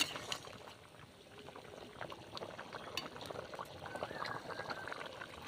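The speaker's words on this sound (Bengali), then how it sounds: "ফুটছে টকবক টকবক করে" Fish and potato curry with tilapia bubbling in a pot, a soft, steady simmer of small irregular bursts, faint and close, with no talking.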